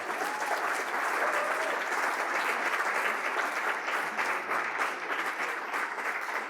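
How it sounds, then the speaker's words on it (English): The audience at a 2016 pitching competition applauds the winners once more with loud, continuous clapping. Faint crowd voices sit beneath it. "I think let's applaud them again."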